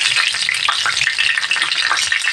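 Brinjals sizzle and crackle steadily in hot oil, a dense, close frying hiss with small pops throughout and no voices.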